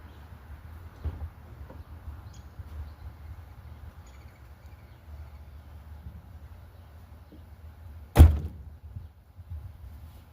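The door of a 1999 Ford F150 pickup slams shut once with a solid, loud thunk, standing out over a quiet, steady outdoor hum.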